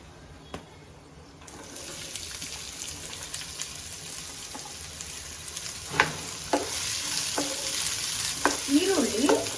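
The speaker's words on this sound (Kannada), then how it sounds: "ಈರುಳ್ಳಿ ಲೈಟ್ ಬ್ರೌನ್ ಕಲರ್ ಬರಬೇಕು, ಆ ಥರ ಫ್ರೈ ಮಾಡ್ಕೊಳ್ಳಿ" Two onions fry in hot oil in a pan for chicken donne biryani, giving a steady close sizzle with sharp spoon-stirring scrapes and clicks that grow louder toward the end.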